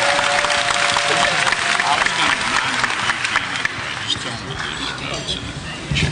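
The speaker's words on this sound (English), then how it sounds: "Let's give them a round of applause." An audience at a literacy council spelling bee gives contestants a round of applause, dense clapping mixed with crowd noise and voices talking over it, gradually thinning toward the end.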